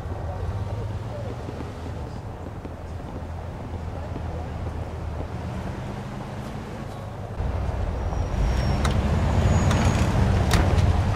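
In the Mafia 2 Definitive Edition video game, a car drives with a steady engine drone and rushing wind noise that grows louder partway through.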